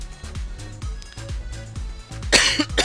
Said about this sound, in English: So that's my cough.